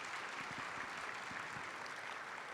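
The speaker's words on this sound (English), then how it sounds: "can we give one more round of applause to our student performers" Sustained, fairly soft applause from a large audience at a public schools education event, honoring student performers, a steady smear of many hands clapping with no talk over it.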